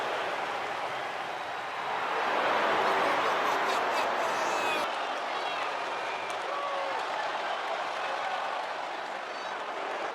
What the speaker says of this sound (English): The crowd is electric as AJ Styles makes his way to the ring